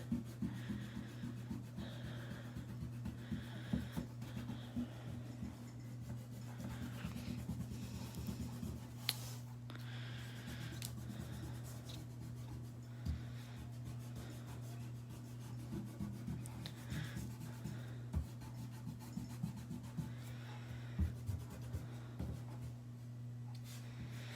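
An eraser rubbing on paper over a drawing of SpongeBob and Patrick, with faint, quick scratchy strokes in short bursts against a steady low hum.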